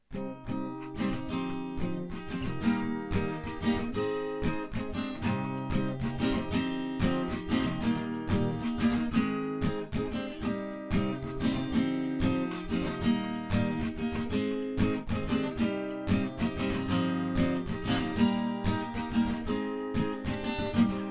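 A full stretch of strummed acoustic guitar playing steadily in a rhythmic pattern, warm and close, without singing.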